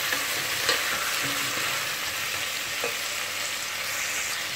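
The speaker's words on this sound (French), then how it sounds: "Donc une demi-courgette, 2 carottes, une pomme de terre et aussi un demi-fenouil. Donc je vais les faire revenir pendant à peu près 8 minutes." Half a zucchini, two carrots, a potato and half a fennel bulb sauté in a pan for a fish vermicelli chorba, giving a steady close sizzle with a few light clicks of stirring and no voices.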